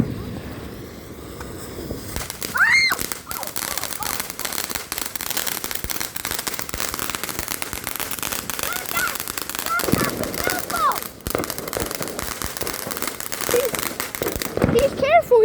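Fireworks and firecrackers going off outdoors, sharp crackling bursts and rapid popping volleys in dense strings, fairly close and loud, with people talking intermittently in between.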